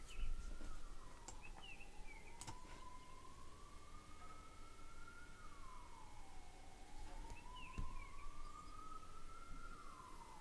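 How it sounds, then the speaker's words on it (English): A wailing emergency vehicle siren, fire engine or ambulance, rises and falls in long slow sweeps at moderate distance over steady background hum, with faint bird chirps; no one speaks. "there's the fire engine. Or ambulance."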